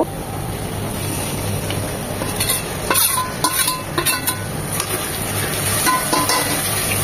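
Ginger-garlic paste fries with turmeric, chili and roasted cumin mixed in water in a pan for beef rezala, making a continuous sizzle with scattered clicks and stirring scrapes, close by.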